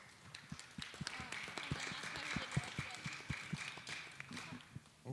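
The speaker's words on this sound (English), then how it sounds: "You can clap for them." An audience gives a short round of scattered, fairly quiet clapping at an Inauguration Day event, with a few sharper hand claps standing out and some background voices.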